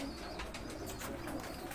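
Pigeons coo softly from rooftop lofts in a steady, continuous murmur of overlapping calls, with some faint chirps mixed in and no clear talking.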